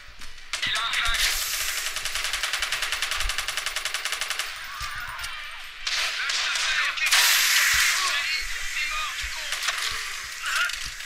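Rapid automatic gunfire in the Watch Dogs video game rattles in loud, dense bursts with sharp single shots between, close and continuous, with voices briefly heard under the shooting.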